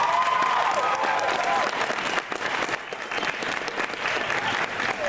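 Sustained audience applause fills a fan convention panel room, steady and dense throughout, with a few cheers and faint voices mixed into the clapping.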